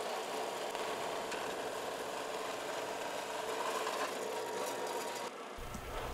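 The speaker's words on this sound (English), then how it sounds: "So I put the horizontal bandsaw in the vertical mode and laid it out and just gonna cut along the lines here." A horizontal bandsaw set in vertical mode cutting along layout lines in metal stock, a steady whirring, buzzing drone running continuously with a slight change near the end.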